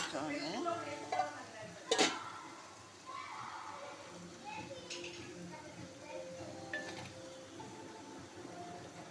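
Ginger garlic paste fries in a pan for a mutton curry, a soft sizzle beneath scraping and clinks of a utensil against the pan, with a sharp metallic knock early on.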